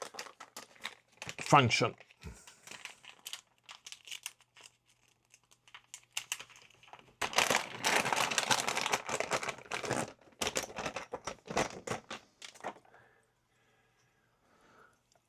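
An ESD bag from an STM32C5 development board unboxing is handled, producing close, loud bursts of plastic crinkling and rustling in uneven clusters, with someone speaking intermittently.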